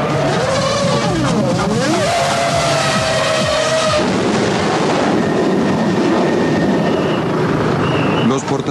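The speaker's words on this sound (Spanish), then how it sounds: "Con el rugido de motores y el alarido de los autos en la pista, es imposible oír" Formula 1 race cars roar past on a track, engine pitch sweeping up and down as they pass, loud and close with a continuous wash of noise.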